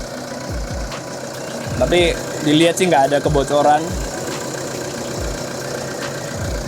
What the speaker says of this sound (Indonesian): 2KD itu mesinnya powerful tapi memang suaranya khasnya seperti ini